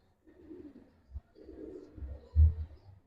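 A Giribaz pigeon, a silver hammer bird still in molt, gives soft, low cooing in a few short phrases, with one louder burst near the end, close by with no talk.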